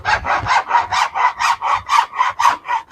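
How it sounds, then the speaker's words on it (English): A hacksaw cuts through garage door weather stripping in about a dozen steady back-and-forth strokes, close and rhythmic, with no talk. "cut this with the hacksaw"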